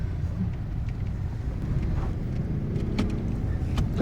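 Heavy road traffic heard from inside a moving car in Cavite, a steady low rumble of engine and road noise with faint passing sounds, no talk.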